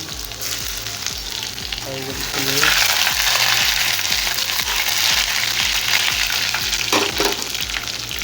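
Garlic frying in a hot pan crackles and sizzles steadily and loudly, with stirring scrapes and clinks throughout and no voice over it.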